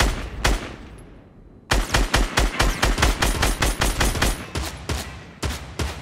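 Automatic gunfire in Fortnite Battle Royale strikes a wall in quick repeated bursts after a single early shot, loud and close, with the rapid cracks running almost continuously.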